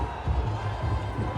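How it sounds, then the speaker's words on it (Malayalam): A crowd cheers and roars at a Thrissur Pooram festival celebration in Zabeel Park, Dubai, welcoming a speaker on stage. Loud, dense and continuous, with a low rumble throughout this brief burst. "നല്ല കൈയടികളോടെ"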